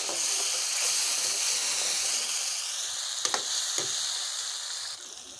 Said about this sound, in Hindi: अच्छे तरीके से इसको भूनेंगे, फ्राई करेंगे।